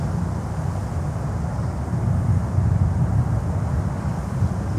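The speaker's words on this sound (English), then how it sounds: "And there goes KLM with their 330 back to Amsterdam in the Netherlands" A KLM Airbus A330 jet departs, giving a steady low rumble that swells slightly midway, distant and continuous with wind-like noise over it.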